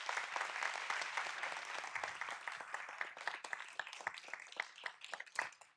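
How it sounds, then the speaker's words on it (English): A Fort Worth city council meeting audience applauds a police officer retiring after 31 years: steady, dense clapping from a crowd, even and continuous for several seconds, heard somewhat distant and faint. "Your career, Julie, truly deserves a round of applause."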